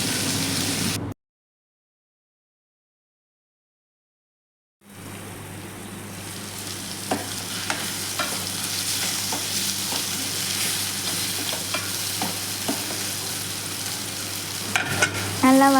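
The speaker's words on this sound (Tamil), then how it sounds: "பாகற்காய் நல்லா ப்ரௌனிஷாக ஆனதுக்கப்புறம் தக்காளி ஆட் பண்ணணும்." Bitter gourd and tomato sauté in a pan: a short pause of silence, then a steady close sizzle with occasional clicks and scrapes from stirring.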